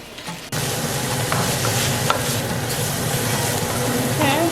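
Vegetables sizzle and fry in a pan for curry fried rice with ham and shrimp while they are stirred, a steady loud crackle with scraping strokes that starts abruptly after a short quiet lead-in.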